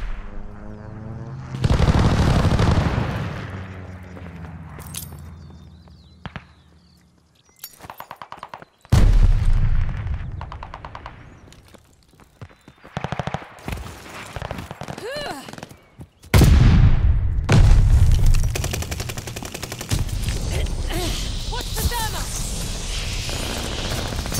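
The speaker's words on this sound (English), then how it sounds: "Friendly sending an airstrike." Airstrike explosions and gunfire in Call of Duty: Vanguard multiplayer, with loud booming blasts and bursts of shots in uneven waves, some sudden heavy impacts, over a constant battlefield rumble.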